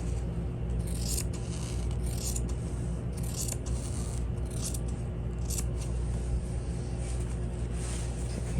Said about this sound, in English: I'm gonna go and cut this out. Cut exactly on the side.